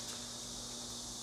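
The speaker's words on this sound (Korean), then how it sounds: "매미 소리가 들립니다." Steady, high-pitched droning buzz of cicadas singing together, an unbroken shrill chorus with a low hum underneath.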